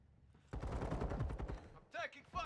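Rapid automatic gunfire crackles in an online match of Call of Duty: Modern Warfare II at Breenbergh Hotel, a short loud burst followed by a brief radio-like voice and another shot.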